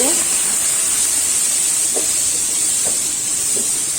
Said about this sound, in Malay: saya akan masukkan daging dulu tanpa minyak untuk keluarkan air daging tu